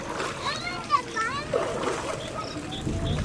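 Floodwater outside a house after a storm is stirred with a foot, giving soft, intermittent splashes and sloshing beneath continuous talk from a woman and a child.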